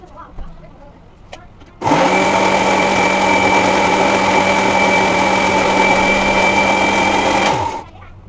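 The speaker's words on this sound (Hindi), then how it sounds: "तो अभी इसको हम लोग मिक्सर में पीसेंगे" A mixer grinder grinding henna leaves starts up abruptly and runs loud and steady with a high-pitched whine for about six seconds, then winds down and stops.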